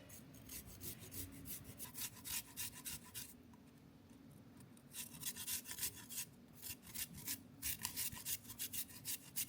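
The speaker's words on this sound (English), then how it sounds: "Then you want to get your ginger and you just want to grate it." Fresh ginger root grated by hand into a teapot: quiet, rhythmic rasping strokes in bursts, a brief pause near the middle, then more scraping, close and soft with faint background hum.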